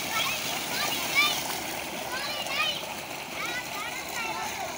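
Water gushes steadily from a 4 hp solar tube well in Punjab, Pakistan, a continuous splashing rush heard up close while people talk over it.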